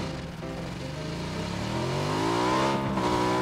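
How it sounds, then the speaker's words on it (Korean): A motorcycle engine in the video game PUBG revs up steadily, its pitch climbing over a few seconds as it accelerates, loud and continuous with no talk. "오토바이."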